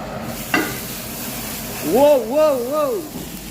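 Cumin, chopped garlic and vegetables hitting hot oil in a pan, a soft sizzle with a utensil clink and a sustained wavering tone rising over it midway.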